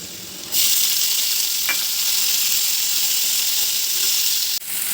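Tomatoes hit a hot pan of fried onions, setting off a loud, steady sizzle that starts abruptly and holds at a constant hiss before cutting off at the end.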